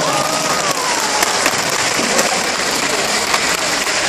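Audience at a Cantonese-language church gathering claps as a steady, dense wash of applause that fills the whole stretch at an even, fairly loud level, with no clear voices on top.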